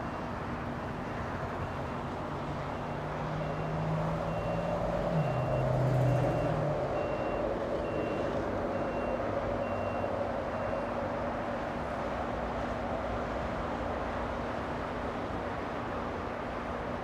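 Evenly spaced reversing beeps from a pushback tug at Los Angeles International's Tom Bradley east-facing gates as an Iberia A330-200 bound for Madrid is pushed back, the beeps moderately faint over a steady engine hum and low rumble.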